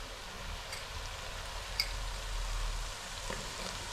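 Goat offal curry of intestines and lungs frying in a pan, a soft steady sizzle with faint scattered ticks and pops, low and close, no speech.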